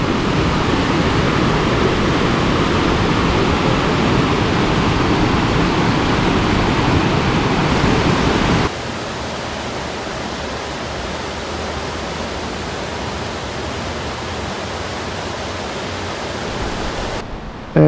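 Ladder Creek Falls in North Cascades National Park near Newhalem, Washington, gives a steady, loud broadband rush of falling water. It drops to a quieter, more distant roar about halfway through, with no voices.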